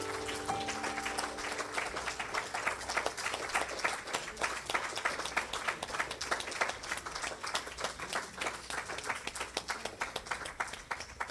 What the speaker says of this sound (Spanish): Dale un fuerte aplauso a nuestro Dios hoy.